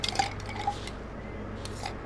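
Ice and spoon clink against the sides of a glass while a cocktail is stirred, a few light ringing taps over a quiet, close background with no speech.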